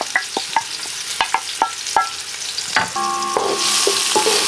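Garlic and onion frying in melted lard on a big outdoor burner, several close spoon clacks and scrapes over a sizzle that grows louder and brighter toward the end.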